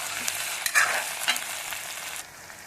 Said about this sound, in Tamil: இந்த வெங்காயத்தோடு சேர்த்து நல்லா வதக்கிக்கணும்.